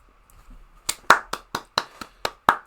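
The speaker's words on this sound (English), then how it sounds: "I clap for this one." Eight sharp hand claps ring out at a steady, moderate pace, close by and fairly loud, with no talking.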